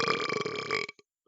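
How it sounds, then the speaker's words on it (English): A long, loud, rumbling burp lasting almost a second, ending abruptly, with a short faint gulp and a tiny click just after. "One day a burp compilation will be a thing."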